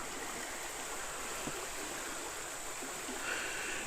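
Creek water flows steadily at the Sneed's Creek access to the White River in Arkansas, a soft continuous rushing wash heard from a distance with no voices over it.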